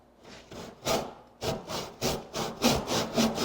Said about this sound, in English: I'll just continue to saw down along that line using the fence as a guide